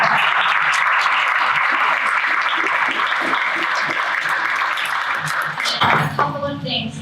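An audience at a schools conference clapping steadily for speakers and panelists for several seconds, dense and loud, then tapering off as a voice begins.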